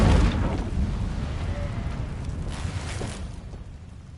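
An Incendio fire spell from a video game bursts with a deep, booming whoosh, then trails off into a rumbling, crackling roar that slowly fades.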